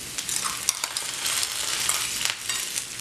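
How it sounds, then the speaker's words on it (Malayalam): Crushed spice paste for kadala thoran fries in hot oil, a steady hissing sizzle with a few quick taps and scrapes from stirring near the start, moderately close and with no voices. "അരപ്പ് ചേർത്ത് കൊടുത്ത് ഒന്ന് മൂപ്പിച്ചെടുക്കണം"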